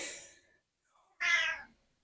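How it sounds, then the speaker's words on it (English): A cat meows twice, close and fairly quiet: a first drawn-out cry that trails off, a short pause, then a second brighter, sharper meow. "Meow. Meow. Kitty cat. Meow."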